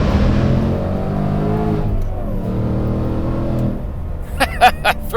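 A 2025 RTR Mustang Spec 3 accelerates hard, its loud, close engine roar climbing steadily in pitch, then breaking into a few sharp bursts near the end.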